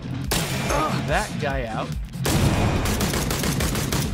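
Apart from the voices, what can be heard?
gunshots in a video game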